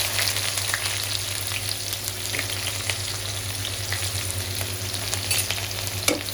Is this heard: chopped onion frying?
yes